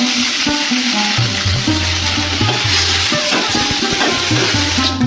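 Neem flowers fry in hot oil with a steady, loud sizzle and crackle, a constant hiss running throughout alongside low intermittent hum.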